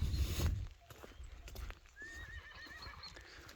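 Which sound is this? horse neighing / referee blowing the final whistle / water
horse neighing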